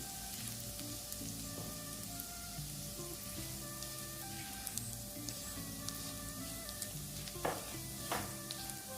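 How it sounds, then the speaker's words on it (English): Garlic sautéing gently in a pan for Jamaican-style chicken in black beans, a faint, steady hiss with soft crackles and a couple of brief stirring clicks near the end. "you don't want to be burning your garlic. You just want to saute it gently"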